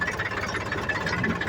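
A tractor engine runs steadily on a rural farm track, a continuous mid-pitched rumble with a faint knocking pulse, fairly close and alone.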